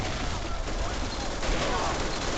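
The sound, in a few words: MG34 machine gun firing in video game Call of Duty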